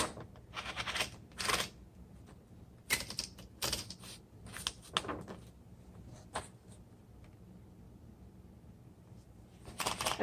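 Paper fed through the roller of a 1938 Remington Portable Deluxe typewriter: clustered mechanical clicks, ratchets and rattles come in bursts over a faint background hiss, close by, with no voices.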